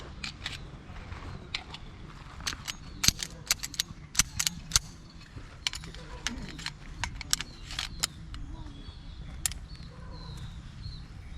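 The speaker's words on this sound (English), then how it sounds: "Empty the pistol." Sharp metallic clicks and snaps ring out irregularly as a pistol is emptied and cleared during a firearm safety drill, each one short and crisp against a quiet background.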